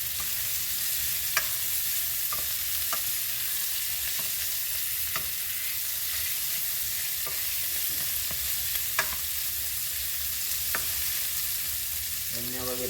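Saltfish being stirred through a pot of Jamaican curry choco, a steady sizzling bubble under scattered soft spoon scrapes and taps at an irregular pace, close and fairly quiet with no talking.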